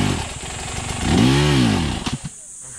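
A Husqvarna FE250 enduro motorcycle engine revs up in one rising and falling swell, then gives a few short blips before it settles back to a low idle.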